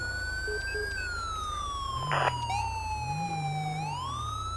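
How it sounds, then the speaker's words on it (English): A Grand Theft Auto V police siren wails loud and near, sliding slowly down then rising again, with a brief burst of static-like noise midway and a low rumble underneath. "That siren will drive you crazy."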